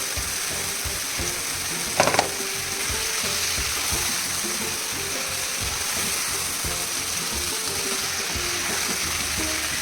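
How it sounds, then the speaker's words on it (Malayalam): Chicken for a kanthari chicken biryani fries in a pan while being stirred, with a continuous close sizzle broken by scraping strokes and a sharp metallic clatter around two seconds in. No talking. "ചിക്കൻ ഒന്ന് വേകുന്നവരെ ഇളക്കിക്കൊണ്ടിരിക്കുക."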